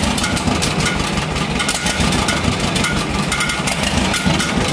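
A 1957 John Deere 420C diesel crawler dozer engine idles steadily right after starting, a loud, close, continuous low rumble with even vibration and no talk over it.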